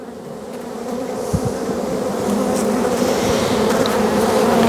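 Honeybees drone in a steady, close buzz as a beekeeper lifts a hive frame of brood showing the queen, calm and without smoke, in late March; occasional louder individual bees pass near.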